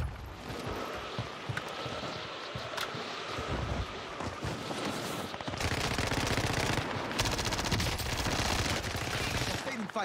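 Heavy automatic gunfire in the shooter Warzone, with rapid continuous bursts and loud rattling fire over wind-like noise, growing denser in the second half, with no talk.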